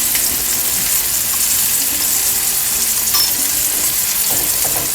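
Hazelnut butter sizzles in a hot frying pan, a loud, steady crackling hiss that fills the whole stretch with only small clicks of the pan.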